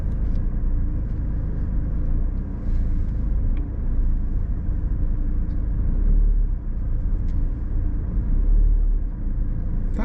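Car reversing during a pull-up on the right on a mock driving test, a steady low engine rumble heard from inside the vehicle with no talking.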